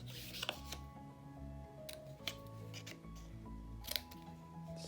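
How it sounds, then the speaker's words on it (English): Scissors snip a small flap off paper in a mini album craft project, with several quiet, crisp cuts spaced over a few seconds amid soft handling noise. "I will snip off that little piece there on the bottom."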